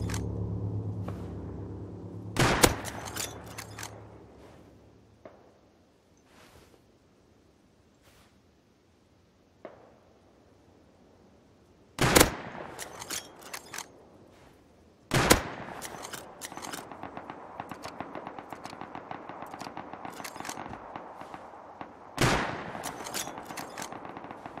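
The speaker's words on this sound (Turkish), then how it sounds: "Mermiye falan saldım onun peşinden." Gunshots in the survival game Rust come as sharp isolated cracks and short rapid bursts separated by quiet stretches, loud and close, with a dense clustered volley near the end.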